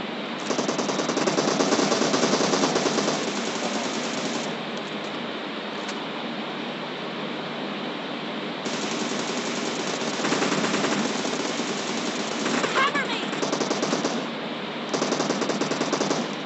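Rapid automatic gunfire in the video game PUBG during an arena match rattles in long continuous bursts with brief pauses, loud and dense throughout, with no talking.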